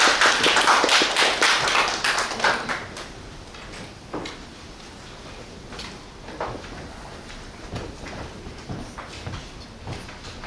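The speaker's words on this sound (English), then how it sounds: "Please join me in welcoming Professor Li with a round of applause." An audience at an academic symposium on WHO pandemic treaty negotiations claps to welcome a professor. A brief burst of clapping fills the first few seconds, then thins to scattered taps in a quieter room.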